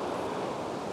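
Ocean surf washes steadily over coastal rocks at a calm rock-fishing spot, a continuous broad rushing wash with some wind noise and no distinct wave breaks.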